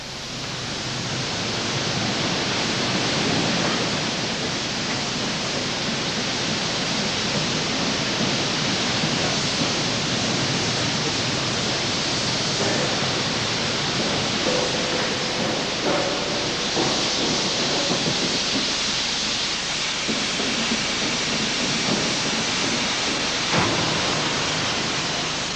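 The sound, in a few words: 4-high reversing roughing mill rolling a metal slab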